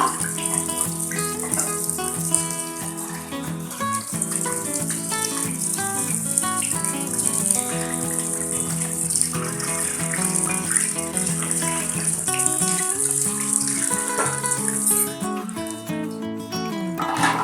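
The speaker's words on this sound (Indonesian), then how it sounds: "cuci piringnya udah beres" Dishes are washed under a running kitchen tap, a steady stream of water with scattered light clatters and rattles throughout.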